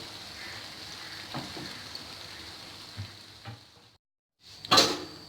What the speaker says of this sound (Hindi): प्याज हमने ऑयल में डाल दिया, हल्का सा ब्राउन हो जाए इसको हम निकाल लेंगे